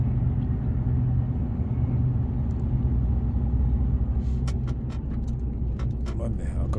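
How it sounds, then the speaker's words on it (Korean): Container handling equipment moves around a port yard while a container is loaded onto a truck, a low steady engine rumble heard from inside the cab, with a few sharp knocks toward the end. "장비 움직이네. 이쪽으로 오는 거 보여."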